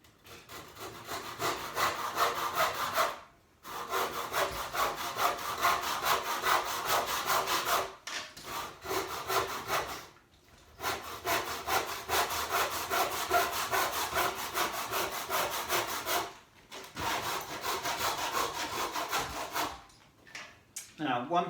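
Timber being cut with a hand saw in a shed for a workbench build, steady rasping back-and-forth strokes in long runs broken by brief pauses, close and loud with no talking.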